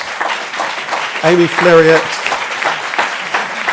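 Applause for start-up panel speakers at a business event rises under a host announcing names, with the crowd clapping steadily behind the voice throughout.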